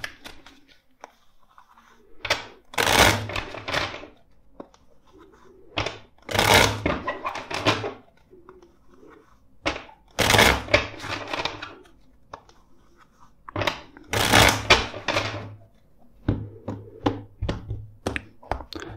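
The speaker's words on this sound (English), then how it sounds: "First, let's shuffle four times." Tarot cards shuffled by hand in a series of bursts, each riffle or overhand pass a crisp papery flutter separated by short pauses, close and clear with no talk.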